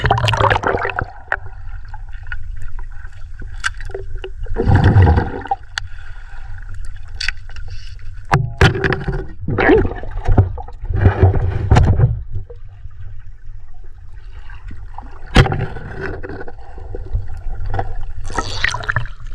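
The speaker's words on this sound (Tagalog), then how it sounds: "Malakas na yung pabalik ng tubig." Strong water rushes and churns continuously, with surges and splashes rising over a steady low roar, close and loud.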